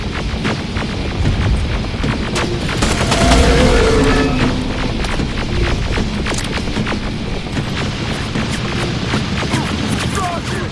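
Dense gunfire from the Terminator Resistance video game on PS5 rattles in loud, continuous bursts over a throbbing mechanical hum, with shouted voices in the mix.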